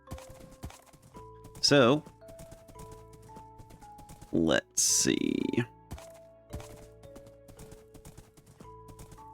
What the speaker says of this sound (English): Let me hitch my horse up out here